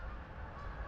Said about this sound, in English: it's the geese.